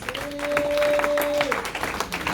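A church congregation applauds and cheers during a sermon, dense clapping filling the room with voices calling out over it and a sustained sung or shouted tone.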